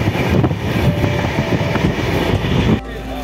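A passenger train rolls on the rails with loud, rhythmic clickety-clack as it nears a station, then the rumble drops away abruptly near the end.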